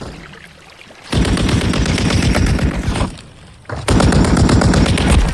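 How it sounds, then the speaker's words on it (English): Dense automatic gunfire from a Modern Warfare III match, loud sustained bursts with a brief lull before the shooting resumes at full intensity, no talk over it. "I'm taking effective fire!"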